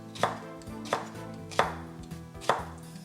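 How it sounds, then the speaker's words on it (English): A knife chopping miniature carrots on a board, four sharp, evenly spaced thuds over about three seconds, close and clear with no voices. "And now we're going to chop, chop,"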